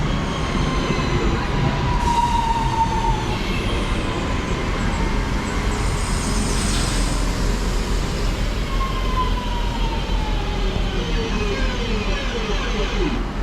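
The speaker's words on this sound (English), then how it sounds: "in comes our next train, 323239" A Class 323 electric train pulls into a station on the Manchester Airport line, a loud continuous rolling roar with rising and falling electric whine tones running throughout.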